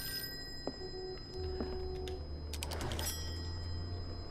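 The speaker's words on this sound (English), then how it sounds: "The phone's ringing." An old telephone rings in the Call of Cthulhu game, a faint bell over a low room hum, with a few mechanical clicks and a brief burst of rattling.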